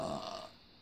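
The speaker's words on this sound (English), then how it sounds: "You burped at me." A single short, low burp, heard faintly and fading out within a second.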